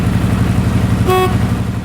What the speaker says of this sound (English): One of the worst problems we have with these old Harleys is that the horn sucks.